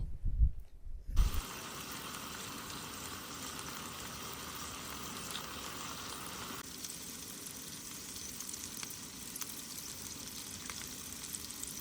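Bacon sizzles on a camping stove in the Ozark National Forest, a steady close crackling fry that runs throughout after a brief knock at the start.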